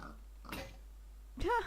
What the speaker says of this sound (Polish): świnia ci się do domu pakuje